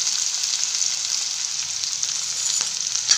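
Chopped green onion fries in a pan with garlic and green chili for drumstick-leaf (moringa) sabzi, a steady, close, broadband sizzle holding evenly throughout with no talk.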